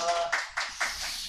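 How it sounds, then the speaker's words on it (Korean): A church congregation claps at a Sunday service, three or four soft, scattered bursts of hand claps with short gaps between them. "우리 수고했다고 박수 한 번만 쳐드릴까요?"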